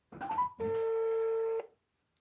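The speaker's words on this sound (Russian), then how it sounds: "Звоним." A telephone number is dialed with short keypad tones, two quick beeps followed by one longer steady tone, clear and close in an otherwise quiet room.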